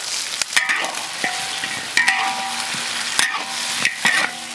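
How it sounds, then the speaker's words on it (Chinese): Duck meat sizzles in hot oil while a utensil scrapes and clanks against the wok every second or so in an uneven stirring rhythm. "就把这一盆的鸭肉下锅炒"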